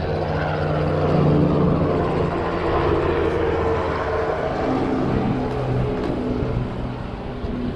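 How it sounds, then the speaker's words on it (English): A helicopter flying overhead near the beach in Los Angeles gives a steady, moderately loud rotor drone with a slow rise and fall as it passes, heard during a bicycle ride with no talk. "Got a helicopter over there."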